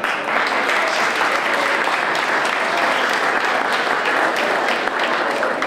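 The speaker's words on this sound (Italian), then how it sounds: "Per loro chiederei un grosso applauso." Sustained audience applause at an anniversary event and contest for girls in Celano, a dense, even roar of many hands clapping without pause, loud and close.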